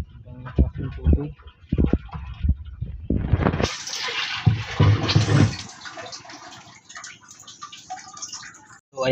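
Water gushing into a tank on an island, a loud rushing pour that starts after a few seconds of talk and continues steadily, with voices speaking over the start.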